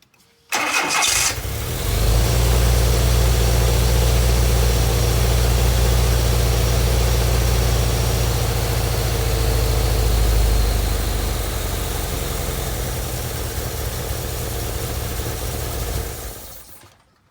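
A Volkswagen Vanagon engine, running with its Temp II sensor unplugged, cranks briefly and fires up, then holds a loud, steady idle up close that eases slightly in level before cutting off at the end.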